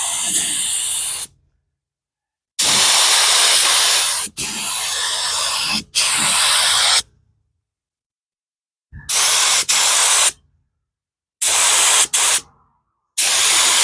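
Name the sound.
spray gun applying a coat of epoxy to truck bed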